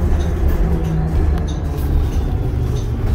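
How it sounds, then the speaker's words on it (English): A tanker train rolls past a city bus on a Montreal-area route, a steady low rumble of rail cars and wheels filling the sound continuously, fairly loud and close, with no talk. "Tanker train."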